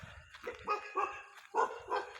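Dog barking at a house, several short, fairly faint barks in two quick clusters with brief pauses between them.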